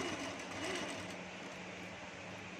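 A sewing machine stitches piping along the edge of a potli bag, running at a steady, even hum with a fine rapid needle rhythm, close and fairly quiet.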